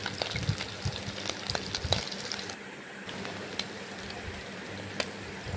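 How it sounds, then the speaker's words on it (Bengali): Paneer pieces fry in mustard oil in a pan, giving a steady, fairly quiet sizzle with scattered crackles and pops throughout. "পনিরগুলো ফ্রাই করে নিচ্ছি সর্ষের তেল দিয়ে"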